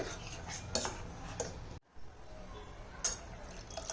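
Water is poured into a pot of dal being made for Rajasthani dal bati, a soft continuous trickle with a few sharp utensil clinks against the metal pot and a short break partway through.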